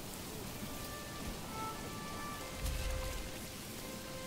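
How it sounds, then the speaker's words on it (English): Rain falls steadily on wheat fields in the video game Manor Lords, a soft, even hiss of drops with faint tonal game ambience and a brief low rumble. "I can see it raining on my wheat."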